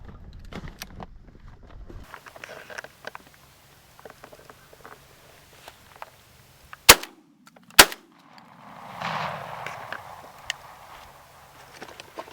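Two sharp shotgun blasts ring out about a second apart during a pigeon hunt in open country, each followed by a short echoing tail, over low background rustle and faint wind.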